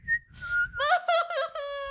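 A person whistles close into a microphone, giving a short run of clear, breathy notes that slide and step in pitch for under two seconds.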